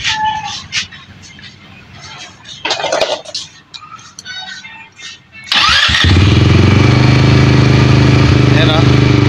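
A 200cc ATV with a slow-returning idle fault, cranked and started: someone talks over workshop noise, then the engine catches with a sudden loud roar and settles into a steady, high, buzzing idle that runs close and continuous.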